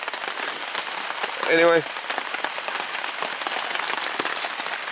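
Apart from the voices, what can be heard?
rain falling on a tarp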